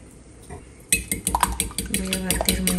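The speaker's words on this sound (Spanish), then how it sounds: "Voy a batir muy bien." A fork clinks rapidly against a bowl as an egg is beaten with salt and meat seasoning, a quick, close rhythmic tapping that starts abruptly after a quiet moment and keeps going steadily.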